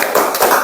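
A school class claps a quick rhythmic chant, two or three sharp bursts of hands in a short pattern, close and fairly loud.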